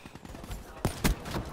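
Burst of Call of Duty: Black Ops 3 gunfire, a couple of sharp close shots rising out of a steady game sound bed, with a voice talking over the action.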